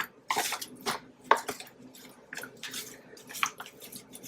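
Soft clinks, taps and wet squishes of chicken wings with tips attached being laid out and flipped on a roomy baking pan, several short scattered handling sounds at close range.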